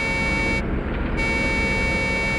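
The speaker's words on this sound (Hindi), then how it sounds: "हॉर्न भी बजा रहा है।" A truck horn honks in a forest at night, heard as one steady, sustained harmonic blast that holds loud and unbroken for the whole stretch with no voices.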